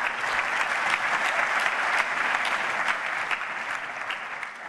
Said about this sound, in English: Maybe a round of applause to our sponsors.